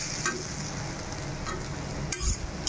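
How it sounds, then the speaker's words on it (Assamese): Potatoes frying for aloo bhaji while being stirred in a pan, a steady close sizzle with occasional scraping spatula strokes and a sharper clatter near the end. "ইপিনে আলু ভাজি বনাই আছোঁ।"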